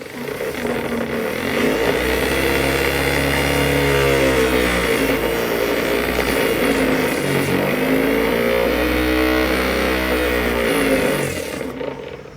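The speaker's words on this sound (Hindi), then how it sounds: "मैं इस सप्लाई को चेंज कर ले रहा हूँ तो ये दूसरी साइड घूमेगा।" A small DC motor in a classroom experiment runs in reverse after its supply polarity is switched, giving a loud, steady, humming whine with slight pitch wavering that holds for about twelve seconds before cutting off.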